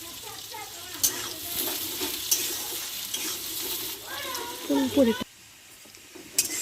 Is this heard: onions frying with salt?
yes